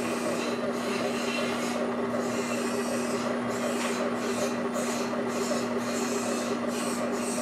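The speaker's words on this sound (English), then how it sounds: "See the pump head turning." Watson Marlow 323 peristaltic pump head turning, a steady mechanical whir with a constant hum and faint rhythmic squeaking rolls, continuous and fairly quiet throughout.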